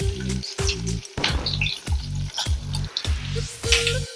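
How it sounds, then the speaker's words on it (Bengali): A large garlic clove spits in hot oil with dry red chilli, black pepper and nigella seeds, a close crackling sizzle pulsing with regular rhythmic stirring strokes, loud and without talking. "আমি এই রসুনটা ফোড়ন দিয়ে দিলাম, বড় সাইজের একটা রসুন।"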